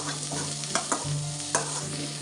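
Onions frying in a pan for Afghani egg curry: a dense, even sizzle with a handful of quick stirring scrapes and clacks, nearby and unaccompanied by speech.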